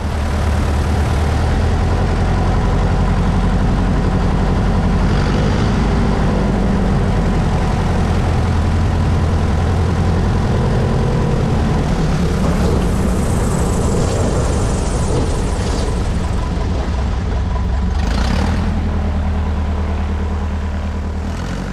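A Super Cub light airplane landing downriver: a loud, continuous propeller and engine drone fills the whole stretch, easing slightly in pitch and level near the end, with no voices.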